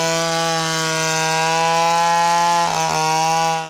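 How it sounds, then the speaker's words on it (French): A saw cuts through the trunk of a tree thrown across a road, with police standing by; a loud, steady engine drone holds throughout with a brief dip near the end. "À l'aide d'une scie et sous le regard des forces de l'ordre déployées en grand nombre, des gros bras coupent le tronc de l'arbre jeté sur la route."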